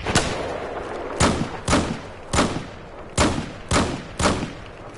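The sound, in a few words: gunfire in the video game Battlefield 4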